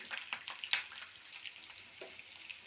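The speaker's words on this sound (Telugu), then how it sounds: "స్టవ్ వెలిగించుకొని ఒక కడాయి పెట్టుకున్నాం ఆయిల్ వేసుకుని ఆనియన్ వెల్లుల్లి" Onion and garlic frying in oil in a kadai make a soft, steady sizzle. A few sharper crackles and stirring scrapes sound close by, and there is no talk.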